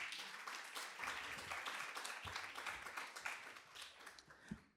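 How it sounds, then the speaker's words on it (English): An audience at a Mother's Day awards brunch claps together, a faint but steady patter of many hands that thins out toward the end with a few last separate claps. "Can we give her another round of applause?"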